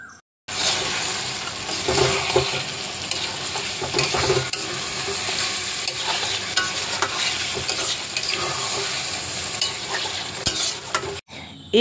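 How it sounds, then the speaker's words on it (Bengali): A spatula scrapes and stirs chicken with whisked sour yogurt in a hot pan. Continuous close frying sizzle runs under repeated scraping strokes against the metal for several seconds, with no talk. "এরপর আর কি খুন্তি দিয়ে ভালো করে নাড়িয়ে চাড়িয়ে নিলুম।"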